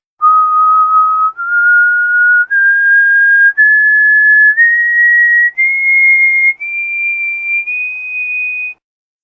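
A clear, pure tone is whistled with the lips, no fingers, held in eight sustained notes that step upward in pitch one after another, loud and close with brief breaks between notes.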